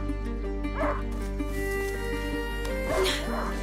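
Leo, a hunting dog in A Plague Tale: Innocence, yips and whimpers in short excited bursts at close range over a steady game soundscape with music.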